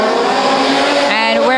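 Modified sedan race cars starting a twelve-lap race, four cars: loud, close engines roaring and revving hard as they pull away, with a tire squeal, under excited commentary.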